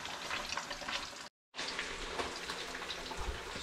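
Fish pieces frying in a pan for Guyanese-style fishcakes, a steady dense crackle and sizzle close by with a brief dropout partway through.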